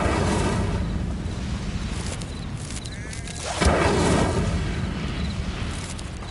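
Incendio fire spell from Hogwarts Legacy, a whooshing burst of flame that flares loudly partway through over a steady rumbling backdrop, then fades slowly.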